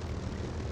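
Propeller engine of an I-185 fighter with an M-82 radial engine in War Thunder, a loud continuous broadband drone that fills the whole moment without break.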